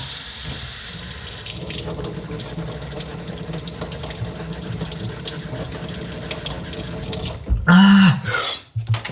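A faucet runs steadily into a sink, a constant close splashing rush that surges louder and gurgles near the end as the flow shifts.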